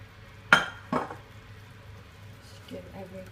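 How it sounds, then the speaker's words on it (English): A quick stir of stock and tomato puree in a pan gives two sharp metallic clinks close together, then a faint softer scrape, near and fairly quiet. "Give everything a quick stir."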